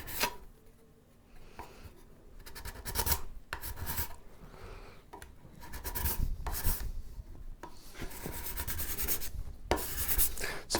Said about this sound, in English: So I'm going to use the card scraper.